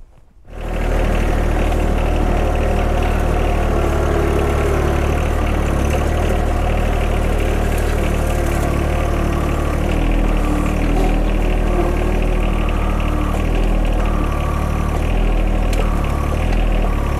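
A large truck engine idles and rumbles steadily close by while backing up, a continuous low drone with no voices.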